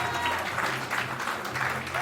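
Audience applause for a singer-songwriter at a live Armenian music event, a steady wash of clapping at moderate distance with no voices on top.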